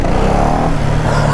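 Ducati motorcycle engine idling loudly up close, a rough, steady low throb with a slight rasp, constant throughout a brief burst with no speech.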